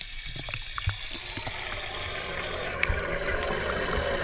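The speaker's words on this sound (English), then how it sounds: "we are doing a water change right now." Water flows steadily and fairly loudly during a water change in a pet bass's fish tank at a house, a continuous rushing wash with a few small knocks early on and no talk.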